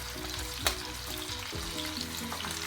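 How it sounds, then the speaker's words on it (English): Salmon sizzles in a hot pan with a crackling, steady frying hiss, joined by a few soft stirring scrapes and one sharp clink, close and alone with no talk. "the salmon is going to start. It's going to really start to sizzle"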